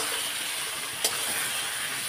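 Spices fry with onion and garlic in a pan for a fish curry with taro stems, a steady, fairly loud hiss throughout with one brief click near the middle.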